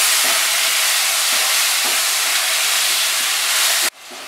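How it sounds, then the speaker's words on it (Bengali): Cumin seeds and dried red chillies fry in hot oil for a Bengali banana flower and prawn dish, giving a loud, steady broadband sizzle that holds evenly for about four seconds, then cuts off abruptly. "এবার মশলাটাকে 15-20 সেকেন্ড একটু ফ্রাই করব, জিরে শুকনো লঙ্কার গন্ধ আসবে"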